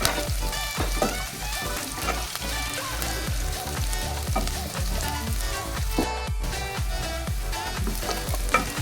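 Chopped garlic, onion and ginger sauté in hot oil for chicken curry, giving a dense, continuous crackling sizzle with frequent stirring clicks, close and steady, with no talking.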